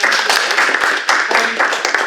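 An audience applauds, sustained clapping from many hands that holds steady with slight dips throughout.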